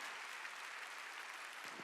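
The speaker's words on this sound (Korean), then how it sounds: "박수 치려면 치고" Congregation applause at a Korean church Sunday worship service, a steady broadband clatter of many hands clapping together, sustained and fairly close for the whole short stretch.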